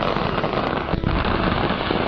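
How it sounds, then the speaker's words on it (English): Fireworks explode continuously at the Seest fireworks plant disaster, a dense, roaring crackle of rapid bursts with a heavier thump near the middle, loud and unbroken with no voices. "The explosions start to grow more intense as larger caches of fireworks ignite."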